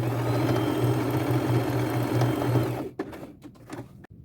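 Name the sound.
sewing machine sewing a straight stitch on fabric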